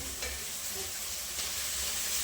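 Spices crackle and sizzle in hot oil for a tempering, a steady close frying hiss with faint stirring scrapes throughout.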